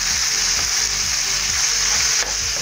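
Ground meat fries in a pan with a steady, close hissing sizzle and faint stirring scrapes throughout, with no talking.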